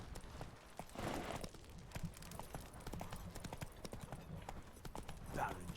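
Hoofbeats of Roach, the horse in The Witcher 3, sound a steady clip-clop across the Velen wetlands, with faint game ambience and a brief voice-like cry near the end.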